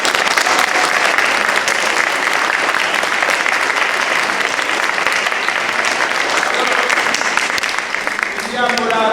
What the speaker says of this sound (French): Donc il y a Myriam qui est là, qui vous a fait chanter, vous pouvez l'applaudir.